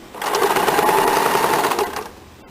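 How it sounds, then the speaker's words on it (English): A sewing machine stitching a fabric strip onto the neck edge of a blouse, a loud, close, rapid mechanical whirr that runs steadily for about two seconds and then stops, with no talking. "At the center of the back neck shape, I am again stitching the strip"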